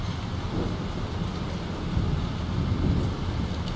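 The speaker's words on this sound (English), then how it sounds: "This storm is real." A video game thunderstorm in Life Is Strange, steady heavy rain with low rolling thunder rumbles underneath, moderately quiet and without speech.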